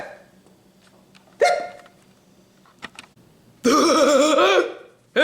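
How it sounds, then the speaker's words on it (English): Cartoon hiccups from Donald Duck burst out in a few sharp, squawky yelps spaced across the clip, with quieter clicks between, close and otherwise silent. "you have the hiccups"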